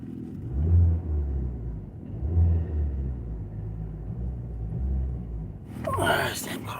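A car engine rumbles and revs in low, surging swells throughout, loud and close, with a burst of other noise near the end.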